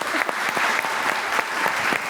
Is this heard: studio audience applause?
yes